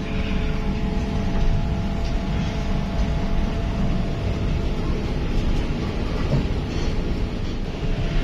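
The Pangrango agglomeration train pulls away from Batu Tulis station on the Bogor–Sukabumi line, a loud, continuous rumble of wheels and engine heard from on board with no talk.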